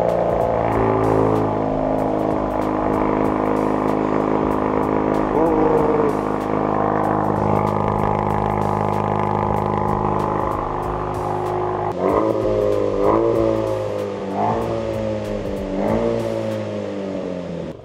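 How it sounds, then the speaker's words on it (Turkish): A Land Rover Defender fitted with a Lumma CLR LD bodykit idles with a steady low exhaust rumble, then is revved several times in short rising bursts, close up and fairly loud. "Bir egzoz sesini alabilirsek gençler."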